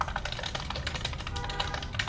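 Rapid, even keystrokes clatter on a computer keyboard at a moderate, steady pace, close and crisp with no pauses or voices.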